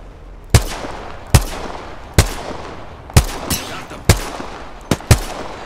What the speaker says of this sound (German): Gut, das probiere ich mal von hier aus mit der Flatline